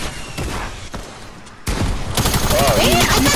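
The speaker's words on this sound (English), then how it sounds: "I thought my pistol was my hand cannon." Video game pistol gunfire crackles in rapid bursts, with sharp close shots early and a denser volley of fire later, while players talk over it.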